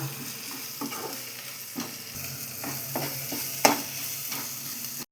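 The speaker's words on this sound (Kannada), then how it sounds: "ಚಿಕ್ಕೆ ಅರಿಶಿನ ಹಾಕಿ ಈ ಥರ ಸ್ವಲ್ಪ ಫ್ರೈ ಮಾಡಿ ಕಲರ್ ಚೇಂಜ್ ಆಗುತ್ತೆ" A pinch of turmeric goes into a frying mixture for radish sambar, which hisses steadily in the pan while a spoon scrapes and knocks at intervals, before the sound cuts off sharply.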